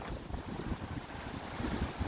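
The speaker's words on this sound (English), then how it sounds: "I'm sorry about the wind." Heavy wind buffets the microphone outside HMP Humber prison, a constant low rumbling roar with gusty fluctuations throughout.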